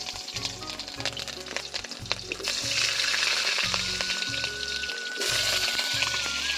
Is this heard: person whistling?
no